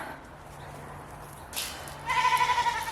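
A goat on a farm bleats near the end, a single close, wavering cry following soft rustling and a brief thump, with no talk over it.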